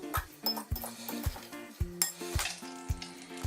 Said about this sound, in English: Then we can add a hefty amount of mayonnaise. And stir this well in.